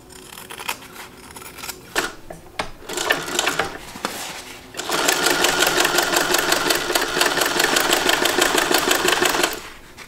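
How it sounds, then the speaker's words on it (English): A sewing machine top stitches fabric, first in short, uneven starts and stops, then in one long, steady run of fast rhythmic stitching, close up with no voices. "we're going to trim this down to 1/4 of an inch, and then we're going to top stitch."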